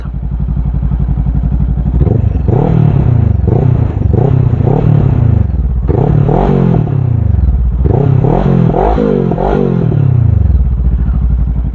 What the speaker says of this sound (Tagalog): Alright, sound check. Akrapovic aftermarket exhaust.